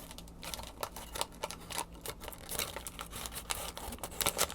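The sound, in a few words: crinkling paper cupcake liner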